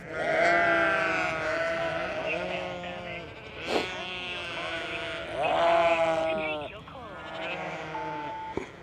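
Sheep and lambs bleating in a farm field, a chorus of overlapping wavering calls that keeps going steadily at moderate loudness, some nearer and some farther off.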